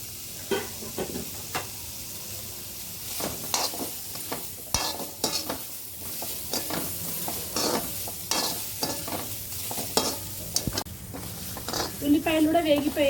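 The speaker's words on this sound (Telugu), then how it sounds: "ఉల్లిపాయలు కూడా వేగిపోయాయి." Thinly sliced onion dry-frying in a kadai with a steady sizzle, scraping stirs and clinks of the spoon, and a voice talking over it.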